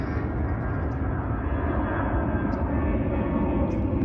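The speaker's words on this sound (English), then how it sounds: "there's an airplane" An airplane passes overhead outdoors, a steady broad roar of engine noise that holds at an even loudness throughout, with no voices.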